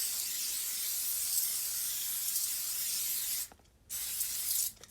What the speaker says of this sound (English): I think I will do some glue spray.